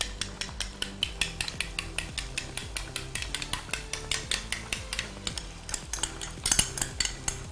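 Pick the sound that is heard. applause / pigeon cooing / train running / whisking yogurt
whisking yogurt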